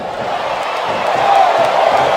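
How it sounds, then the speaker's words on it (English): A capacity crowd roars in the WWE SmackDown vs. Raw 2007 video game, with a loud, dense, continuous swell of cheering that rises slightly toward the end. "It sounds like this capacity crowd has something on their minds"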